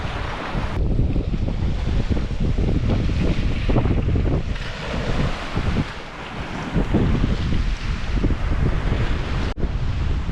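Wind blows hard outdoors along the Tricity coast, a loud continuous rumbling rush buffeting the microphone, with faint surf-like roar beneath and no voices.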